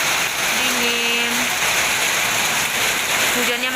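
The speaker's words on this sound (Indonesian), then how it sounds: "Hujan, makin deras hujannya." Heavy rain pours steadily over a pine forest near Malino in South Sulawesi, a dense continuous hiss of drops on surfaces, with faint distant voices and brief tonal sounds in the background.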